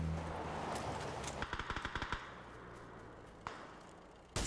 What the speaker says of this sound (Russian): А мне сзади кто-то стреляет.